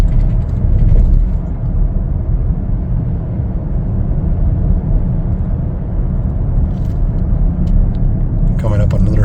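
A 2021 Chevrolet Traverse LT cruises along the road with a steady low engine and tyre rumble that fills the cabin, holding at an even level throughout, and a brief rattle near the end.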